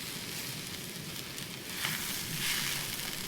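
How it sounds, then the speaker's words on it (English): Eggs and potatoes frying in a pan on a backpacking stove, a soft, steady sizzle with a faint burner hiss, quiet and continuous. "These eggs are cooking pretty fast since the potatoes were so hot."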